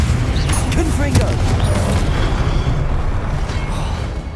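Confringo blasting spells go off in Hogwarts Legacy, booming bursts packed into a dense, steady wash of game sound with no quiet gaps.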